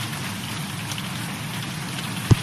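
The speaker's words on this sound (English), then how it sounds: "Turkey, hail and flooding in Ankara." Hail and rain falling in Ankara, Turkey, a dense steady patter of drops striking surfaces, with one sharper thud near the end and no voices.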